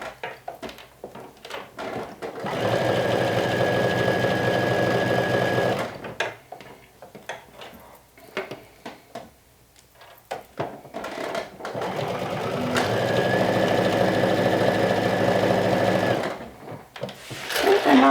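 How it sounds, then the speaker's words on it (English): A serger or sewing machine runs in two sustained bursts of a few seconds each, finishing the raw edge of a sleeve's arm opening on a lumberjack-style garment, with quieter handling noise in between. "finish the raw edge of the arm opening with the serger, or you can use your sewing machine with a zigzag stitch."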